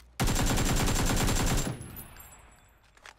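A loud, rapid burst of automatic gunfire from a DP-28 in PUBG runs for about a second and a half, then fades into a decaying echo with faint clicks.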